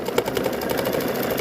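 Embroidery machine stitching a continuous quilting pattern with candy corn motifs, a close, steady mechanical hum with rapid rhythmic needle pulses throughout.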